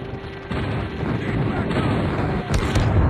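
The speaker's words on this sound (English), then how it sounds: "Friendly airstrike incoming." Airstrike explosions in a Call of Duty video game, a dense rumbling barrage of booms and blasts rolling continuously, with sharper bursts near the end, moderately loud and without speech.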